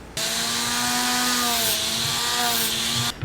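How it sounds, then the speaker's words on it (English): A rotary tool fitted with a sanding drum whines steadily against soft foam, one continuous high-pitched run of about three seconds with a loud, sustained tone and a gritty rubbing edge, stopping abruptly at the end. "I'm going to take a sanding drum to kind of round off the edges"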